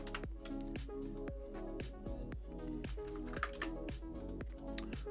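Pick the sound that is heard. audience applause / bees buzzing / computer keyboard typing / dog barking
computer keyboard typing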